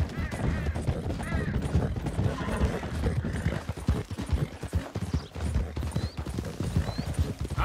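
Rhythmic horse hoofbeats clatter steadily throughout a horse race in Red Dead Redemption 2, with a faint mechanical clicking and occasional voice-like sounds mixed into a busy game soundscape.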